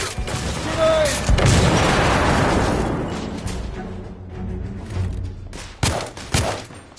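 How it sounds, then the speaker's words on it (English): A grenade goes off in the shooter game The Order: 1886, a loud broad blast that rumbles and fades over a couple of seconds, followed by sharp bursts of gunfire. "Grenade!"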